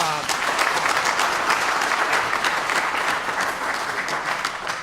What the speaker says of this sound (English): I think an incredible round of applause for